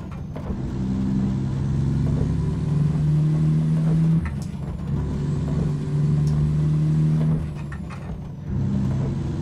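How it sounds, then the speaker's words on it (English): A simulated Impala or Caprice engine in American Truck Simulator drones and revs through gear changes on a snowy drive, a steady low rumble with rising pitch, brief dips between shifts, then climbing again. "I do like the sound of this engine."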